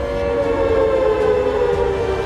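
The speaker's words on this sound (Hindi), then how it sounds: "भारत के हमले के डर से पाकिस्तानी शहरों में अब युद्ध का सायरन बज रहा है।" A loud, wailing war air raid siren sounding in a Pakistani city holds a steady tone, slowly sliding lower in pitch, heard continuously with no voices.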